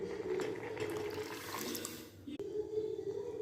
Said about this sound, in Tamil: ஜவ்வரிசியை ஊற்றிக்கலாங்க